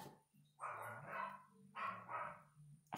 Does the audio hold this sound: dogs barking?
yes